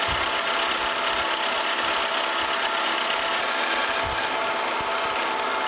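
A metal lathe drilling a 3/8 inch hole through metal drones steadily and loudly throughout, with a constant whirring tone and occasional faint metallic squeaks, no voices.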